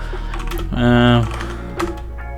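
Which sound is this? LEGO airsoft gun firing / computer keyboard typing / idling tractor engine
computer keyboard typing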